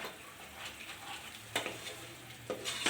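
Ground masala for pudina chicken fry frying in oil as it is stirred, a soft steady sizzle broken by a couple of sharp scraping clicks from the spoon.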